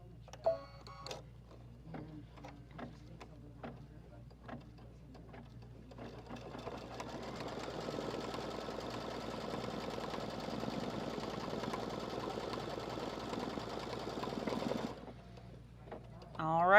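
A sewing machine runs steadily for about nine seconds as it stitches a line of fabric, a loud continuous mechanical whir that follows some scattered handling clicks and stops abruptly near the end.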